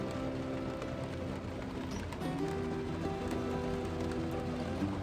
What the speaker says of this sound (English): I like just sitting still and listen each drop hitting the glass